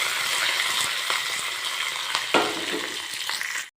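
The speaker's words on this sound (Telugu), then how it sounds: "వెల్లుల్లి రెబ్బలు, ఉల్లిపాయ, తాలింపు గింజలు, కరివేపాకు వేసి ఇలా వేయించుకోవాలి." Garlic cloves, onion, tempering seeds, curry leaves and dried red chillies frying in hot oil for a tempering, a loud continuous sizzle with occasional stirring scrapes before it cuts off abruptly.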